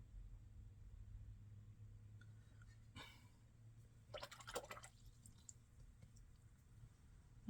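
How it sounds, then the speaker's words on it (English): A paintbrush swishes and drips in a water container while rinsing, a few soft splashes and wet clinks over a low background hum, close and quiet. "Make sure I get all that water out of my brush"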